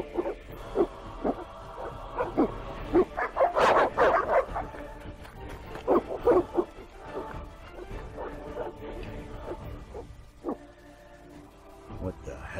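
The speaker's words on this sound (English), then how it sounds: "What are those dogs doing?" Dogs in The Witcher video game bark in scattered bursts over a tense scene, with a few louder close barks standing out amid game music and ambient noise.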